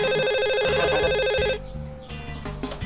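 A telephone ringing with a rapid warbling electronic trill, loud and steady for about a second and a half before cutting off, leaving quieter background sound.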